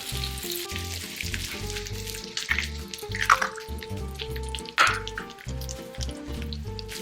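Pork sisig topped with a cracked egg sizzles on a hot plate, a bright, crackling hiss with popping spatters, heard under a steady background music track.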